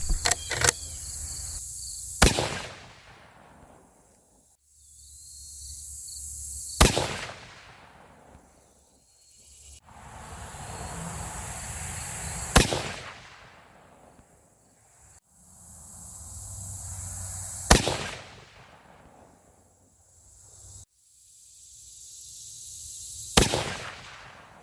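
Five loud rifle shots from a .284 Winchester firing Reloader 23 handloads, evenly spaced about five seconds apart, each a sharp crack with a trailing echo over quiet outdoor background.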